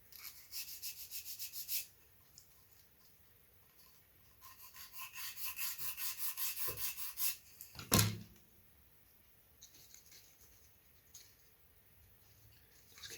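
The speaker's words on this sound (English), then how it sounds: "Keep sanding away until it fits." Sanding of small balsa wood stringer infill pieces by hand at an angle, two bursts of rapid back-and-forth rasping strokes close up, separated by a pause, with a sharp knock near the end and quieter scraping after.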